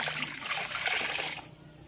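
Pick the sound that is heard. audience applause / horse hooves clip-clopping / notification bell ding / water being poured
water being poured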